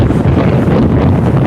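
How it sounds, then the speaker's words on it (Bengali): Strong storm wind buffets a river boat on the way to Dhaka with lightning overhead, a loud, steady roar with rumbling microphone gusts and a constant low-frequency rush throughout, no voices. "আমি দাঁড়িয়ে থাকতে পারছি না,"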